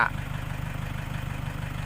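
A farm tractor engine idles steadily at a melon farm, a low continuous rumble with a fast regular throb, fairly close and alone.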